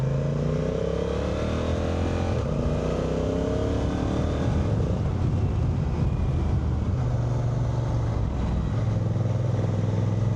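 A Honda NT1100 motorcycle engine drones steadily while being ridden on Gran Canaria roads, loud and close with a rising and falling engine pitch over constant wind rush, no voices.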